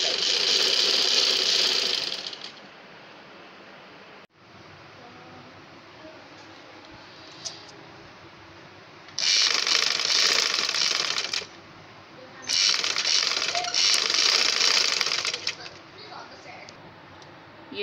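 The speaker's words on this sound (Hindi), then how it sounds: "मैं यहाँ पे मशीन से सिलाई लगाती हूँ" A sewing machine runs in loud sustained bursts, stopping and starting between stretches of quieter handling noise, while stitching the back neckline of an abaya.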